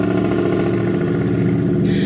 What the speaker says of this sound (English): There's a car that's flying by, so I'm gonna wait.